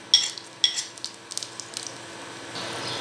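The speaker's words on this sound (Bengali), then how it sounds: "এখানে তেল গরম হয়ে গিয়েছে, কাঁচা লঙ্কা ফোড়ন দিয়ে দিলাম এবং পাঁচফোড়নটা দিয়ে দিলাম" Green chilies and panch phoron spices hit hot oil in a pan, giving a few sharp crackles and spits at first, then a fainter, steadier sizzle with scattered pops.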